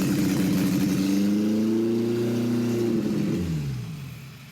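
Suzuki Samurai running a non-original carburetor from a Peugeot 205, its engine revving in a loud, steady drone with a pitch that rises and falls, then dropping away as the throttle eases off.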